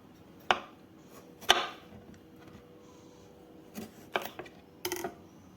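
Cucumbers and herbs being finely chopped with a knife on a board for okroshka, a handful of separate sharp chops with quiet pauses in between, close and fairly faint, with no talk.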